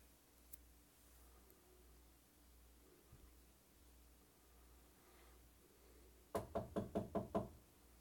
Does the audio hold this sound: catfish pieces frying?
no